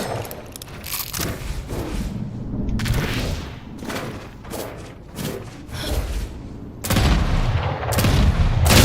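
Bursts of gunfire crack and boom in the video game Monster Hunter Wilds, loud repeated volleys and rapid shots separated by short gaps, with whooshing sounds between them.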